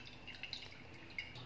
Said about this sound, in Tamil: மெலிசான ஃபில்டரில் போட்டு ஃபில்டர் பண்ணி எடுத்துக்கோங்க